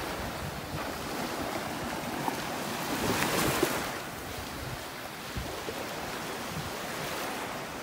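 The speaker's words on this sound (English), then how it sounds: "These waves have the water churned up pretty good" Ocean surf breaking on a beach in North Naples, Florida, a continuous wash of waves with one fuller swell in the middle, mixed with wind buffeting the microphone.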